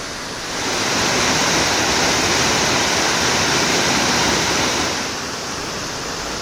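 The 15-metre Bagaturgen waterfall in Bayan-Ölgii, western Mongolia, fed by glacier snowmelt, roars in a loud, unbroken rush of crashing water that swells slightly and then eases back.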